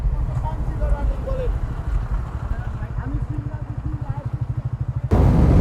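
Suzuki GSX-R sport motorcycle riding fast, a steady loud engine drone with wind roar and pulsing vibration throughout, surging louder at the end, with talk over it.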